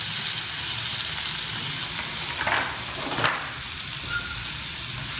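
Turmeric, salt and chili powder fry in a hot pan, giving a steady close sizzle with brief scraping stir sounds partway through and no talking.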